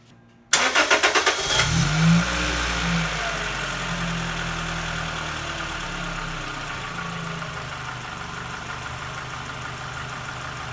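A Toyota Celica engine cranks briefly with a quick rattling starter burst, catches, and settles into a steady, close idle that holds without a break.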